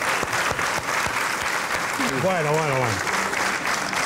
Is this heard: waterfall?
no